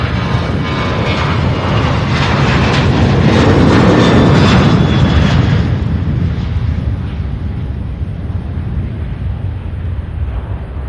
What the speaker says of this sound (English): Oh, Delta taking off.